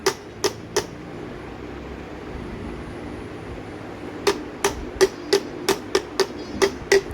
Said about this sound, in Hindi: और इसे जो है फिर ठोक देंगे हम।